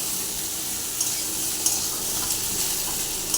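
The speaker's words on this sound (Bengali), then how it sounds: "নাড়তে থাকবে" A vegetable curry of brinjal, potato, drumstick and lentil dumplings sizzles steadily in a frying pan as it is stirred, with a few faint scrapes of the utensil. The hiss is close and continuous, and no one talks.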